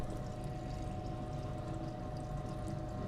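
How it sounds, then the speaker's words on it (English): Silver solution poured into a beaker holding copper, a faint, steady trickling pour that stays even and close for a few seconds with no talk. "I'm just going to pour this right in, and this will the silver in this solution will trade places with the copper in this beaker"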